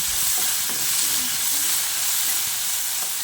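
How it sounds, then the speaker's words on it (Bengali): Chopped tomato and salt stirred into a hot spice tempering, giving a steady, loud hiss of frying with faint scraping underneath and no talk. "নুনটা দিয়ে টমেটোর সঙ্গে বেশ কিছুক্ষণ মিশিয়ে নিচ্ছি"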